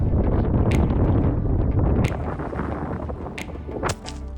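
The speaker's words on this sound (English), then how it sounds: "the wind kept gusting throughout the afternoon, making it an absolute nightmare for filming." Strong gusts buffet the microphone in heavy rumbling bursts, with a few sharp snapping flaps cutting through as the wind dies down near the end.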